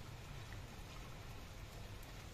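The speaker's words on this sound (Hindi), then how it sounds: "सुबह सुबह बारिश चल रही है यहाँ पे" Morning rain falls in a steady, even hiss of fine drops, a faint continuous wash with no voices.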